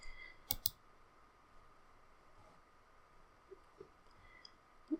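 Sparse computer keyboard and mouse clicks, a quick double click near the start followed by a few soft isolated taps, close and quiet over low room hiss.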